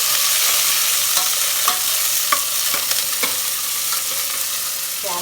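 Green chillies, curry leaves, capsicum and beans stir-frying in a pan, a continuous sizzle broken by repeated scraping clinks of a spatula at an irregular rhythm, close and fairly loud with no talking.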